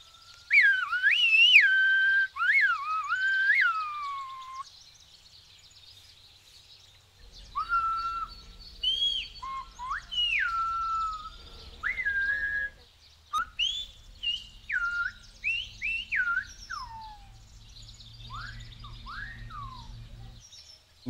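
Silbo Gomero, the whistled language of La Gomera, carried by sharp, loud human whistles in rising and falling phrases, a long sustained opening run followed by clusters of short, clipped whistles with brief pauses and faint low background noise.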